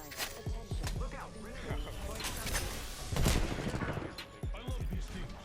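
Apex Legends game gunfire pops in quick volleys and scattered shots, fairly loud and close, with brief pauses between bursts and other game sounds around them.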